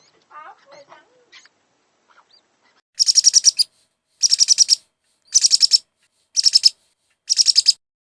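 A pineapple conure parrot gives five loud, close bursts of rapid, shrill, pulsing calls at regular intervals, preceded by a few faint, soft chirps in an otherwise quiet room.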